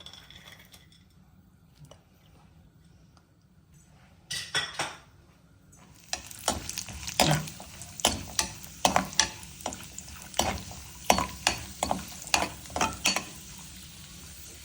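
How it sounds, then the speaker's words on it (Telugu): Cashews fry in ghee for carrot halwa, with a soft sizzle under quick, close metallic clinks and scrapes of a spoon stirring in the pan, starting after a quiet moment. "జీడిపప్పు వేయించుకోవాలి"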